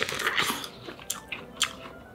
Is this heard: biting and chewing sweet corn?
yes